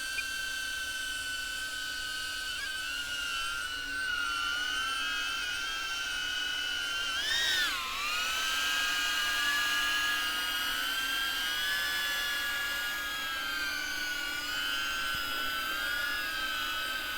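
A DJI Avata drone hovers in to land, its propellers giving a steady high whine with shifting tones. A brief pitch swoop comes midway, and the buzz stays close and continuous throughout.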